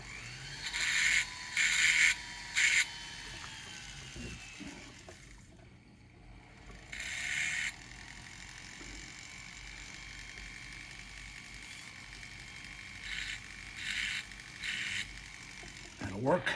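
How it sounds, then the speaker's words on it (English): A drill bit deburring a drilled hole in a gold bar gives off several short bursts of grinding, ratcheting whirr in quick clusters, separated by quieter gaps, close and fairly loud. "I've got a little bit bigger drill bit on here now. I'm going to try to deburr the hole."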